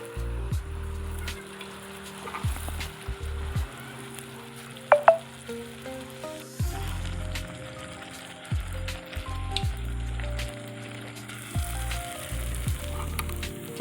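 Palm-fruit malpua frying in hot oil gives a steady, soft sizzle with brief crackles, running for the whole stretch beneath a tonal, music-like backdrop, with no talking.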